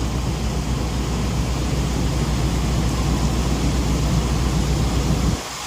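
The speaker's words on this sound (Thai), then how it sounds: "ฝน ก็ลงมาได้จังหวะพอดีเลยนะครับ" Dense, steady roar of heavy rainfall at a seaport, a broad continuous wash of noise that cuts off abruptly at the end.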